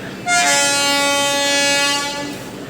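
A passenger train on a long pilgrimage journey to Kashi gives a loud, sustained horn blast of about two seconds over a steady rumble of movement on the rails, with no voices.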